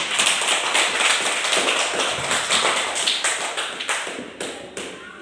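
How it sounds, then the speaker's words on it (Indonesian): A classroom of children claps their hands together in a dense, loud burst of applause that continues steadily for several seconds, with no voices over it. "Tepuk tangan dulu."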